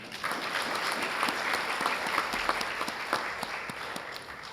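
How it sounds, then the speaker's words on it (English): A crowd applauds steadily, the clapping dense and even, with no voices. "One more round of applause for them."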